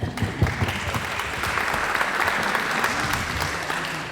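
A conference audience at the APBG 2023 congress in Rouen applauds, a thick, continuous wash of many hands clapping at moderate loudness that holds evenly for several seconds with no voices over it.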